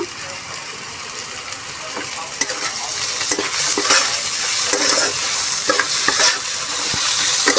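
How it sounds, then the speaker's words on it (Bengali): Chopped onions with salt crackle and sizzle in a hot pan, with repeated scraping and knocking of a spoon stirring them, growing slightly louder over time. "পেঁয়াজটা ভালোভাবে ভাজা হয়ে এসেছে আর একটু দিয়ে দিচ্ছি লবণ আর একটু ভালো করে ভাজার জন্য"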